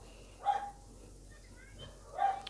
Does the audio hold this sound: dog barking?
yes